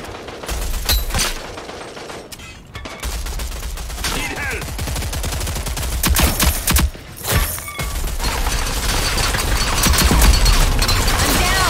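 Sustained bursts of automatic gunfire in the Rogue Company shooter rattle loudly and almost continuously, with booms and mechanical clatter mixed in and occasional brief talk.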